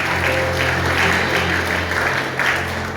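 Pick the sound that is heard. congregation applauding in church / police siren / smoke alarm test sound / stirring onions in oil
congregation applauding in church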